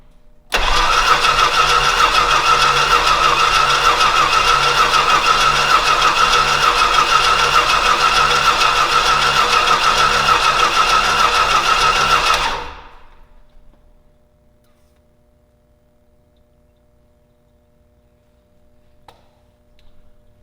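An aircraft tug engine, heavily fueled, catches and runs loud and steady for about twelve seconds, then cuts out and fades into near silence with a faint knock near the end.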